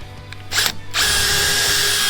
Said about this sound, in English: I think that drill's burning out